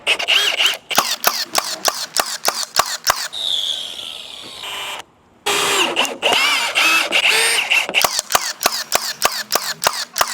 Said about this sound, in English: Then we're gonna screw them in.